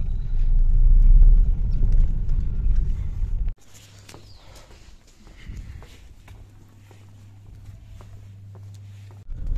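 A car drives through narrow village lanes, its engine rumble loud and close at first, then dropping to a quieter steady hum with faint knocks and road noise.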